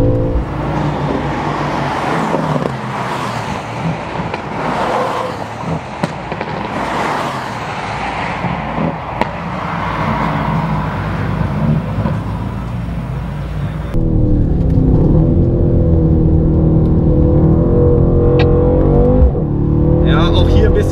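A 2019 Mercedes-AMG C63 S coupé is driven hard on a race track lap, its engine rising and falling through gear changes, then settling into a louder, steadier roar, while someone talks over it in German.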